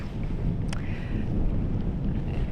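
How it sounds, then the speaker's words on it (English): Cold wind buffets the microphone on the open Nullarbor Plain, a continuous low roaring rumble that stays loud throughout, with a faint brief whistle near the start. "It is cold and windy."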